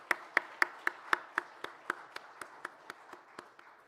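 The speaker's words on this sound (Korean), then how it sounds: "함께 감사의 박수 한번 하겠습니다" A church congregation at a midweek service claps together in thanks, about fifteen evenly spaced claps in a steady unison beat that gradually softens.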